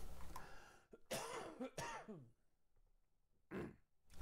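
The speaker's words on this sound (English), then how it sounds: "Sorry about the coughs." A person with a lingering chest infection coughs and clears their throat in several harsh, close bursts, separated by short quiet pauses.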